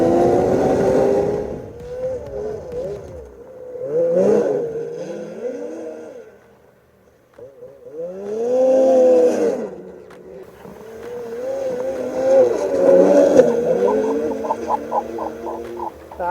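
A Lynx RAVE RE 850 snowmobile rides on wet snow, its engine revving hard in repeated surges that rise and fall, dropping away briefly before roaring back, close and loud with no talk.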